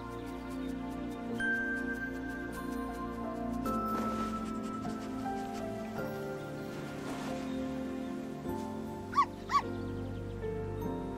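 A puppy in the video game Undawn gives a couple of short, high barks and whimpers near the end, heard over a steady background game music bed.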